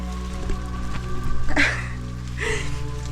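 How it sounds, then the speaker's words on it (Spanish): Steady rain falling with a constant hiss and patter, fairly close, with a couple of brief louder rustles partway through; no voices. "Acaba de empezar a llover."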